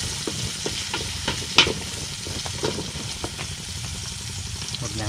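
Garlic and onion fry in a hot pan with a steady, close sizzle, broken by scattered utensil scrapes and stirring clicks and one sharper knock partway through; no voices.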